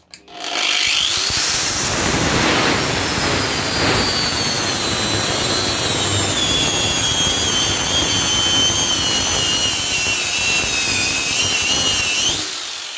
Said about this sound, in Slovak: dáme maximum a vyskúšam na Flexu naozaj silno a drsno zatlačiť